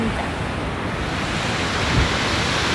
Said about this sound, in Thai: มีน้ำตกสวยงามให้ดูนะคะ น้ำตกนี่ก็คือมาจากหิมะละลาย